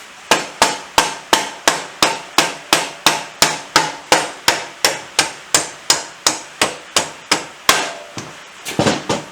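Hammer blows chipping paint off a BSA B50T wheel spindle, about twenty sharp metallic strikes in a steady, even rhythm, close and loud, with a brief pause and a few lighter taps at the end.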